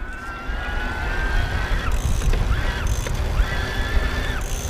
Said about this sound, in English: That's just how it sounds when you're in the higher powers and you're pedaling at a higher RPM